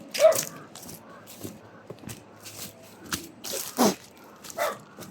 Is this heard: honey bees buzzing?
no